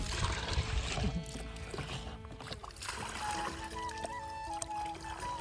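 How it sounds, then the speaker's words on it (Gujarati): Water pours and trickles out in a wheat field, a steady splashing flow heard close over a constant low rumble with scattered knocks. "જોજો હવે પાણી કાઢશે અહીં જોયું"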